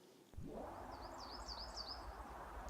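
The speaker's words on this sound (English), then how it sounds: "Listen to the birds." Birds singing beside Underbank Reservoir near Stocksbridge, Sheffield: a high, fluttering warbled song repeating several times, faint against a steady low outdoor rumble that starts after a brief quiet moment.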